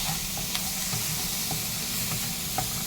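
Goat brain fries in a pan with a dense, steady sizzle and hiss while being stirred, with occasional soft scraping clicks, loud and close, with no voices.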